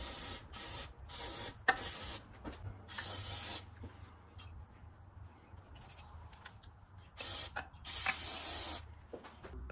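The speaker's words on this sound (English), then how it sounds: "I'm gonna hit it with some more lube." Short bursts of aerosol lubricant hiss onto a piston ring on a 1952 Case DC tractor engine, several quick sprays in irregular clusters, close and fairly loud, with no talk.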